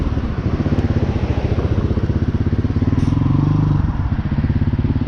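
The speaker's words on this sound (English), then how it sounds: "it is a real motorcycle" A Hawk 250cc street-legal dirt bike engine runs close by with a rapid, steady thumping pulse, rising slightly in pitch midway before settling back.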